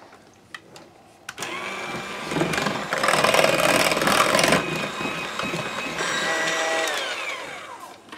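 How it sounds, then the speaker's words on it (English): Electric hand mixer whipping wax melt in a bowl for cookie-shaped wax melts, a steady whirring motor hum that starts abruptly after a couple of clicks and runs loud and continuous for several seconds. "like I say, you don't have to blend it at all with a mixer, but I do."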